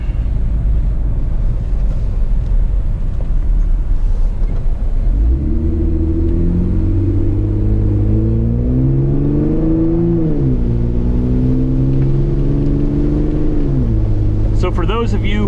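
Car driving on snow in four-wheel drive, a loud, constant engine rumble under road noise that shifts to a rising, then steady drone as it pulls along, with a voice talking over it.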